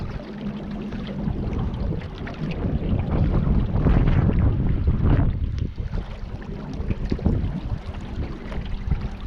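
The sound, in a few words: wind blowing on the Colorado River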